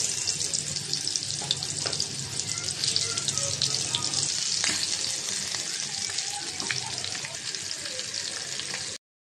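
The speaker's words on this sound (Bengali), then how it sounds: "তেলটা গরম হয়ে গেছে। বিসমিল্লাহ। মাছ দিয়ে দিলাম।" Shing fish dropped into hot oil sizzles and crackles steadily, a loud, bright, continuous hiss with small pops and an occasional clatter, ending abruptly.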